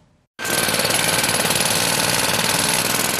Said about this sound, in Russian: В Самаре возобновили аварийно-ямочный ремонт